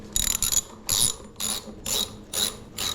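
A ratchet wrench tightens the drive-side axle nut on a bike wheel fitted with new fat tires, giving seven short bursts of rapid clicking with brief pauses between them, close and clear with no talking.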